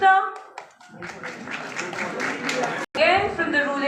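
A clapping audience at a youth parliament prize distribution responds with a steady rush of applause, fairly close, while a voice speaks at the start and again near the end.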